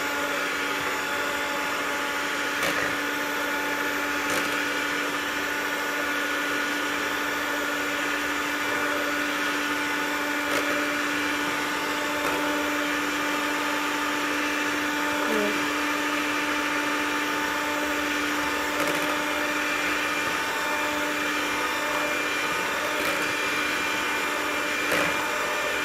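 An electric blender whirring steadily as it blends icing sugar for an umm ali dessert, a continuous loud motor drone with a constant pitch.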